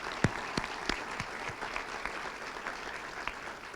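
Modest audience applause at a school hall of fame and years-of-service ceremony, honoring the Lakeview School Board; scattered claps with a few louder near ones, thin and quiet overall, with no talk over it.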